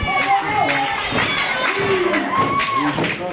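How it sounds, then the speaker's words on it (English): Wrestling crowd cheering and clapping during a tag team title match, a continuous mass of voices and scattered claps with shouts rising over it, alongside other voices talking. "Crowd firing up"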